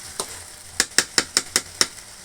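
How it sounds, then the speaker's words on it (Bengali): Beef and potatoes stirred in a pan over a clay stove: six crisp, evenly spaced scraping strokes of a spoon against the pan, close and clear, with no talking. "এখন ভালোভাবে নেড়ে নেব এখন আলুর সাথে মাংসটা।"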